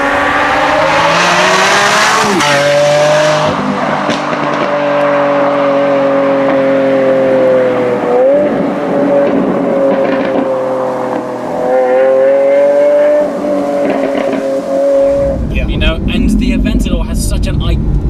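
A Lamborghini Aventador S engine revs hard and holds high, dipping and climbing again several times, then breaks into a rough, crackling roar at the end; loud and close.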